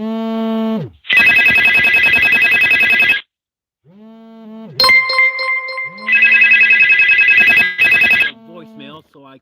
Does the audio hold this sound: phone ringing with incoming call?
yes